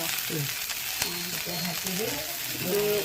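Tomatoes are stirred into dhekiya greens frying in a pan, giving a continuous loud sizzle with soft stirring scrapes and faint tonal sounds underneath.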